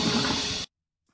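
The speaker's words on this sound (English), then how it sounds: "Okay, I'll flush." A toilet flushes inside a horror video game set in a haunted apartment, a short loud rush of water that cuts off abruptly into silence.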